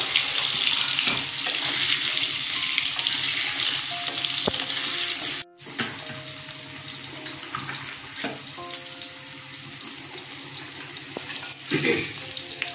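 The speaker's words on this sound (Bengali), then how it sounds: "আমগুলো ভেজে নেব এবার" Mango pieces frying in mustard oil in a kadai, a dense continuous sizzle close by with occasional spatters and stirring clinks, running alone without voices.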